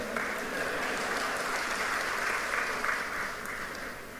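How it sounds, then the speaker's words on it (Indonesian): An audience at a university event applauds with a steady, moderately distant patter of many hands that holds evenly for several seconds. "Jangan ragu-ragu tepuk tangan."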